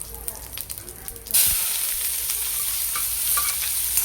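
Cumin seeds hit hot oil in a kadai, setting off an abrupt, loud sizzle that continues as a steady crackling hiss, preceded by faint clinks and stirring.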